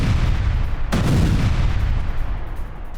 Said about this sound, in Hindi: क्रास्नोदार के रिहायशी इलाकों में विस्फोट, दूर तक सुनी गई धमाकों की आवाज